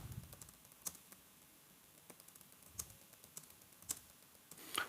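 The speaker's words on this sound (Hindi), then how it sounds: "मैं आपको टाइपिंग करके बताता हूँ कैसे अपने टाइपिंग की प्रैक्टिस करनी है।" Typing practice on a computer keyboard, with sparse, uneven key clicks over about five seconds, quiet and close, with no talk and a low background hiss.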